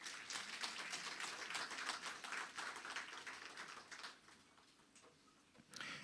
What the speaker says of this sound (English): I think they deserve an applause for that.